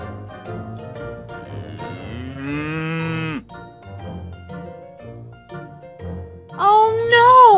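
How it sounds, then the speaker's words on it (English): A cow in a children's phonics story moos loudly in long drawn-out calls, with quieter cartoonish sounds in between and a higher, rising moo at the end. "It's a cow!"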